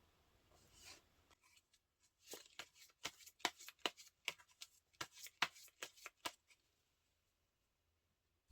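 Tarot cards are shuffled and drawn close up and softly, with a quiet start giving way to a quick series of crisp flicks and slaps that end abruptly. No one speaks.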